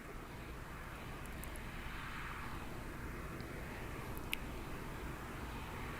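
Jet engines of NASA's Shuttle Carrier Aircraft at Kennedy Space Center produce a steady, loud, broadband roar that holds evenly throughout, with a faint brief chirp near the end.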